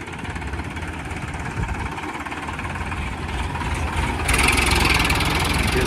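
A 2018 Sonalika 745 tractor engine idles close by, a steady low rumble with a dense rattling texture that grows slightly louder and brighter toward the end, with no voices.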